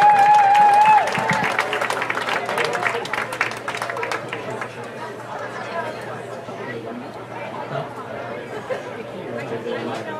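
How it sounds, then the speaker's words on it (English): Spectators at a high school soccer game applaud a girls' under-11 football club team, with scattered clapping under loud crowd chatter and murmuring that carry on throughout. "Let's please give a round of applause for the Georgia Football Club U11 Girls"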